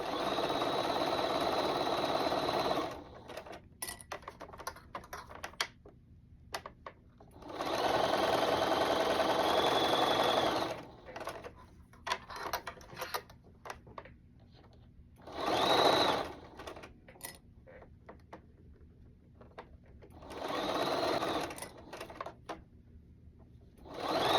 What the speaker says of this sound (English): so we are going to sew this. I am going to stretch the collar a little bit as this sews